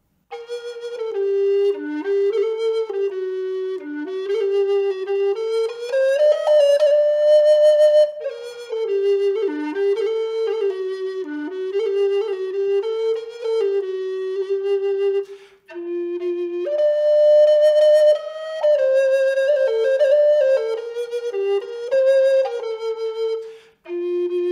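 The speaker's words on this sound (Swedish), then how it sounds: "Det här är en tenorblockflöjt." Tenor recorder, larger than an alto but smaller than a bass, played solo in a clear, breathy melody of connected notes with short pauses between phrases.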